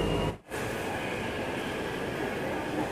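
Taipei MRT red line metro train at a station, a loud steady rumble and whoosh of the train with a brief dip near the start, no voices.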